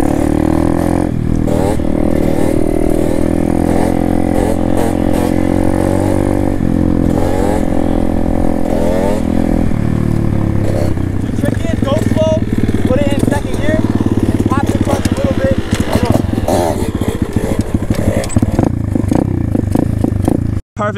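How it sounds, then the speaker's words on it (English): A small pit bike bought from Amazon runs loud and close, its engine note shifting and rising as it revs, with talk underneath and a sudden cutoff at the very end. "The little Amazon pit bike. Test it out."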